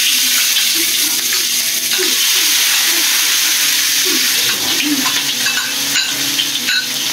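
Pounded spice paste frying with anchovies in oil for nasi goreng, a loud, constant sizzle close by, with light stirring scrapes over it.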